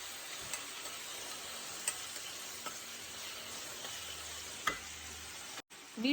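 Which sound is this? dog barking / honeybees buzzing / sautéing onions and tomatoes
sautéing onions and tomatoes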